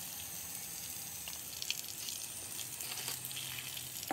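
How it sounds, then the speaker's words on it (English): Water runs steadily while a surface is rinsed clean of a bleach-based mold cleaner, a soft continuous hiss and splash that stays low and even throughout, with no talking. "the reason I'm rinsing it is because, again, it's a bleach and I'd rather not get that all over me"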